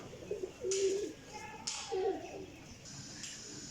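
A pigeon in a loft gives a few short low coos, two brief warbling bursts close by, with soft rustling and faint hissing noise between them.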